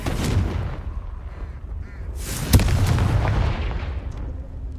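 Confringo fire-blast spell from Hogwarts Legacy erupting as a booming in-game explosion, a sharp crack at mid-clip followed by a rumbling blast and crackle over a steady ambient background.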